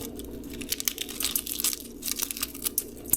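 Prosciutto crumpled by hand over a bowl of chopped shallot, giving soft, close crinkling and tearing rustles in uneven bursts over a faint background hum.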